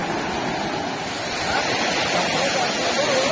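A roadside waterfall in Konkan near the Savitri river pours down in a continuous broad roar, close and loud, swelling slightly toward the end with no clear break.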